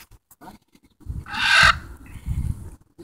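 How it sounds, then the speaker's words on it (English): A hen clucks nearby in short low bursts, with one louder, raspy squawk in the middle. "What kind of hen is that?"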